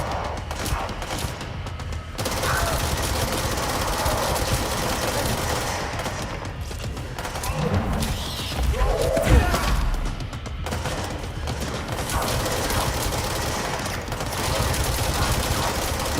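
Gunfire in the video game Control, AWE expansion: a dense, sustained fusillade of rapid shots and crashing impacts running steadily through the whole stretch, loud and continuous, with a heavier burst of booms near the middle.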